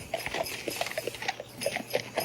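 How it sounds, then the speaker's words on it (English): Horse hooves clip-clopping as a horse pulls a sleigh with bells, steady rhythmic clops with bright jingling accents throughout, at moderate loudness. "It's a horse-drawn sleigh."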